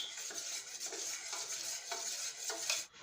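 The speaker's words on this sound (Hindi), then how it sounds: "छाछ में। अब इसको मिक्स कर लेते हैं अच्छी से।" Pearl millet flour being stirred into buttermilk for Rajasthani bajra rabri, a steady wet scraping and swishing with soft clinks of a spoon against the bowl, close and continuous for the whole stretch with no talking.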